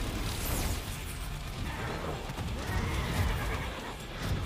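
A time-controlling horse neighs in Devil May Cry 5, a loud whinny in the middle of game action with hoof clip-clops, mechanical clanks and a few bursts around it.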